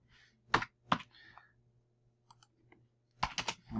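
Keys clack on a computer keyboard with a faulty O key, in a few quick bursts of clicks separated by pauses, fairly close and quiet over a low steady hum.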